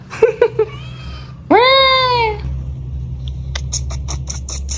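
A house cat meows one long, clear, loud cry up close, after a few short chirpy squeaks, followed by rapid light tapping.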